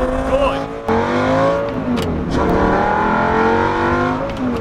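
A sports car from a private collection revs up close and loud, its engine note climbing and falling in several rising sweeps, with a sharp tick or two in between.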